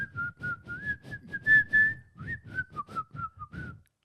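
A person whistles a short melodic tune, a clear bright line of notes rising and falling in steady phrases, close and alone with no talk over it.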